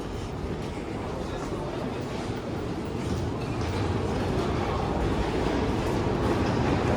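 Steady broadband rumble and roar of a metro train running through an underground station in Yerevan, Armenia, continuous and loud throughout, with faint voices mixed in.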